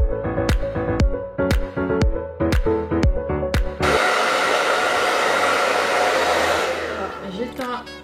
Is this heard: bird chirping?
no